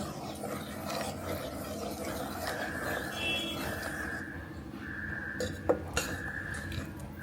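A spoon stirs temple-style Mangalore cucumber sambar in a pot, with a continuous close scraping and rubbing of metal, then a few sharper clinks near the end.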